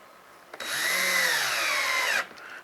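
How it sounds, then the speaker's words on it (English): Power screwdriver driving M3x10 screws into the side of a 1:10 Rod Shop Sic-Drop RC chassis: one steady whirring run of about a second and a half, close and loud, its pitch sagging slightly as the screw seats. "we're going to go ahead and put 2 more screws in the side of the chassis with our M3x10s"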